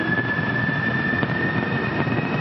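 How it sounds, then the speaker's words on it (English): Solid rocket boosters of an H-IIB rocket firing at liftoff on the August 2015 HTV-5 cargo launch to the ISS: a steady, loud, broadband roar that stays unbroken throughout. "the first stage firing, those solid rocket boosters will continue to burn for just under 2 minutes"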